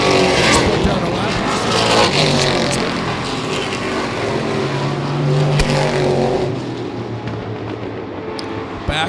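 Race cars roar around a track at a Seven Rivers Racing event as the field comes out of turn four. The loud engines drone on without a break, with a swell and passing sweeps, and a commentator talks over the noise.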